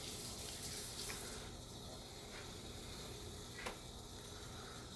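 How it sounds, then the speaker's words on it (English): Water being pumped out of a 13-gallon fish tank gives a steady, close rushing wash with a few faint clicks and splashes, no voices over it. "I'm pumping the rest of the water out"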